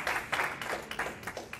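A church congregation applauds during a family worship service, a short burst of mixed hand claps pulsing in uneven waves, moderately loud and close, with no talking over it.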